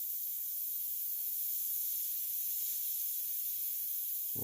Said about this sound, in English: Dirty airbrush, I guess.